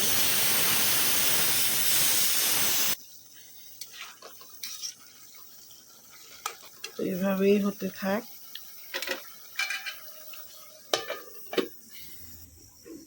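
Chicken pieces fry in a pan with a loud, hissing sizzle for the first few seconds. Then the sizzle cuts off and a person talks over faint kitchen clatter.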